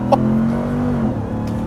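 A 2021 Ram TRX pickup with a 702-horsepower engine holds against the brake at full throttle for a launch-control start, producing a loud, steady engine drone with a sustained tone that dips slightly toward the end.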